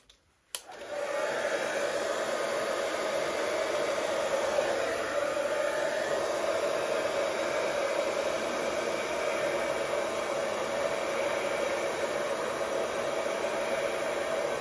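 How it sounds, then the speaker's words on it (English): A hairdryer blows steadily on an acrylic paint pour, a loud continuous airy rush that starts after a brief click and runs unbroken to the end with no voices. "Do I just blow on it again with the hairdryer?"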